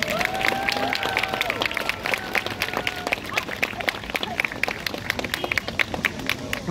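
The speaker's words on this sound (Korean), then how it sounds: "멋진 시범 보여주신 V18기 보조님들에게 큰 박수 부탁드립니다." An outdoor crowd at a night martial arts demonstration at Deoksugung palace in Seoul claps and cheers in a sustained burst, with scattered voices underneath.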